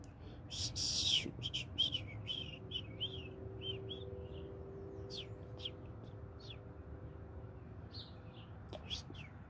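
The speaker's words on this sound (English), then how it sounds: "It's the only birds that are left, we can hear them." Wild birds chirp in short, scattered bursts of high calls, moderately close, over a steady low background hum with no talking.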